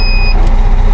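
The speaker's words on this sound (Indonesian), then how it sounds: "itu alarm yang bunyi itu alarm inner wheel ya" Inner wheel alarm on a Scania P410 truck, two steady high electronic tones sounding briefly at the start over a loud, continuous engine idle rumble, then cutting off.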